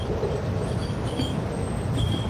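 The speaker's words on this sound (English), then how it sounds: "They keep making that noise. The subway train." A DC Metro subway train passing near the Anacostia River, a loud, steady rumble and rattle of rail cars, close and unbroken with no voices.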